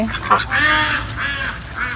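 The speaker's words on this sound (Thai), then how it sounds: "โอ้เป็ดเยอะเลย" Several ducks quack and honk in a short noisy burst, close by at a farm, with overlapping calls.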